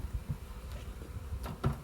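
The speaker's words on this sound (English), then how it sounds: "There's a ton of bees coming in and out of this one." Honey bees buzz around the entrance of a beehive in a low, steady outdoor drone, with a few closer bees passing briefly.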